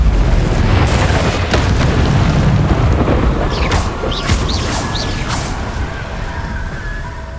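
A Confringo fire spell cast in Hogwarts Legacy bursts into a loud, continuous explosive roar with crackling debris, gradually fading over several seconds.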